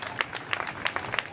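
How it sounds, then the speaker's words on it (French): Brief burst of audience applause at a car elegance contest for a Renault AX during a rally in Carcassonne, with steady clapping running throughout the moment. "Ah, vous pouvez l'applaudir à Olivier."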